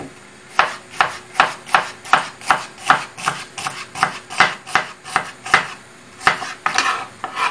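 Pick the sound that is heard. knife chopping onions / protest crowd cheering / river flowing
knife chopping onions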